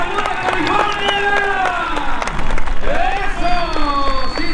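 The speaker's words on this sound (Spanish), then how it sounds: "¡Fuerte, fuerte el aplauso con el estudio!" Crowd applause and cheering at a rodeo event, clapping and hubbub swelling toward the end, while a loud announcer's voice and music run over it.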